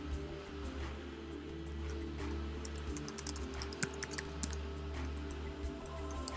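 Soft, rapid clicks of typing on a computer keyboard, steady and close over a constant low electrical hum.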